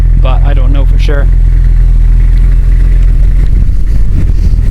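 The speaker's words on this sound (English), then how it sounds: "I think that this is a sportier exhaust than on your standard E30" A 1989 BMW 320i M-Technic E30 with a sporty exhaust idles close by in a loud, steady, low rumble, with someone briefly talking over it at the start.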